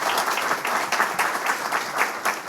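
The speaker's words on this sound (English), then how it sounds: "Give her a round of applause." An audience at a professional symposium in St. Louis claps together, giving a dense, continuous round of applause close by.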